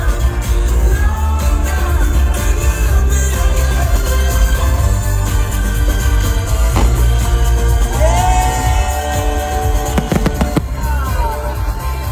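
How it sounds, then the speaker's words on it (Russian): A crowd at the Central Asia Drift Show in Kazakhstan cheers and applauds, a loud continuous roar of clapping and shouting with bangs and an engine wail rising through it, while an announcer's voice carries over the noise. "Make some noise. Give a round of applause for Emmanuel."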